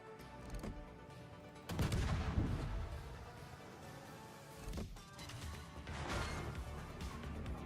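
Naval guns fire in the game World of Warships: heavy booming salvos with rumbling decay, one big blast and later another, over a constant low engine and ambient drone, no voices.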